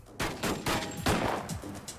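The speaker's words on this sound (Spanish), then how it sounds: "119 disparos por todas partes. Están disparando." A rapid burst of gunfire from armed men outside a bank in Virginia, several loud cracking shots in quick succession with brief gaps, close and sharp.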